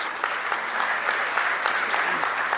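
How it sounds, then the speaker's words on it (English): An audience at the Nashik Vision X 2025 opening session applauds the Nashik attendees, a steady, full wash of clapping from a large crowd that carries on without a break. "So big round of applause on that front for Nasik and Nasikites"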